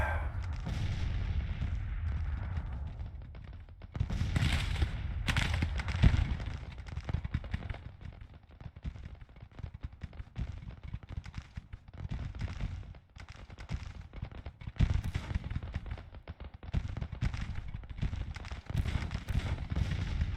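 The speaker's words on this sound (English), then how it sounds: "Switch you from counter battery fire to fire at will." Cannon batteries in the Civil War strategy game Grand Tactician fire repeated artillery volleys, with loud booms and crackling gunfire rolling through the whole stretch and no speech.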